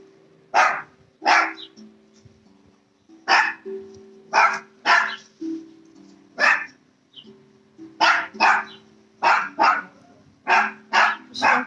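Several dogs bark repeatedly nearby during a live yoga session, sharp bursts coming in irregular clusters with brief pauses, along with some low growling tones in the background and no talk over them.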